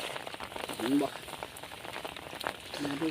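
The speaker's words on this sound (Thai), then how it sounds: "ฝนตกครับ" Steady rain patters down during an early-morning check of set fishing lines, a continuous fine crackle with people talking over it.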